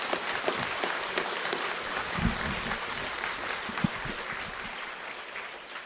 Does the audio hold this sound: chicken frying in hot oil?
no